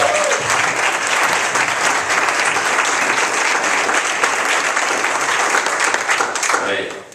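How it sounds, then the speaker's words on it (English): Loud, sustained audience applause from a seated crowd at a talk, dense steady clapping filling the whole stretch before tapering off at the very end. "Thank you for the applause"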